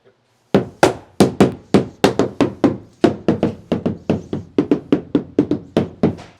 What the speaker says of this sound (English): I'm going to grab a mallet and pop it down all the way.